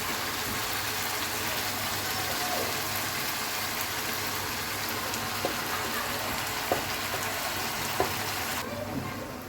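Spinach frying in a pan with a splash of water, a steady broadband sizzle running throughout with a few faint clicks, easing off near the end.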